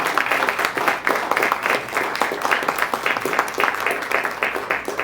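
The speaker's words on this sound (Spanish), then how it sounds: "¿Cuántos pueden darle un aplauso al Señor?" A church congregation applauds steadily, a dense wash of clapping that stays even and loud throughout.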